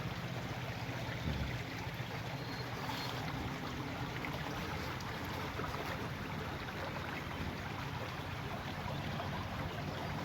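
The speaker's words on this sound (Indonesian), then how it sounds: "Oh, di belakangnya ada sungainya." A river flows behind a rice field, giving a steady, even wash of running water that stays unchanged across the whole stretch, moderately close with no voices over it.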